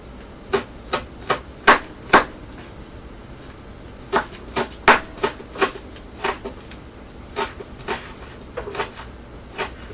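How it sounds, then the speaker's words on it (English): Knife chopping two scallions on a board: sharp, close taps in short bursts, a quick run of five cuts, then several more clusters after a pause, alone with no talk. "we're going to take 2 scallions and we're going to chop those up"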